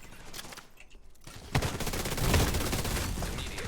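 Shotgun hip-fire in The Division 2 during a PvP match, a quick cluster of sharp blasts followed by a dense rattle of close gunfire.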